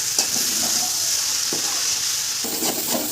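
Powdered milk stirred into a curry of tender green banana in a wok, a steady close sizzle with a few scraping spoon strokes across the pan, no talking.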